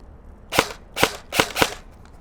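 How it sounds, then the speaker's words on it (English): Four sharp shots from a Classic Army ASG Armalite M15 MLOK airsoft rifle firing at a target 50 feet away, evenly spaced about half a second apart, loud and close with no talking. "Got a target 50 feet away. Gonna do a quick shoot test."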